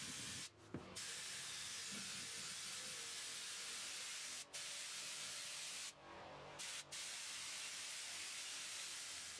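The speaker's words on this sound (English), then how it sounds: "then I heat it up with a heat gun or with a steamer, and that activates the glue again" Steamer heating carpet glue inside a 1980 Triumph TR7, a steady faint hiss of steam running throughout with a few brief breaks.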